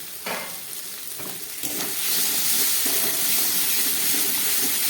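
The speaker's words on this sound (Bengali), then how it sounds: "এবার দিয়ে দিলাম কেটে রাখা পাকা টমেটো" Chopped ripe tomatoes and spices hit hot oil in a dried fish curry, giving a loud, steady sizzle and frying hiss that swells after a couple of seconds, with a few stirring knocks and no talk.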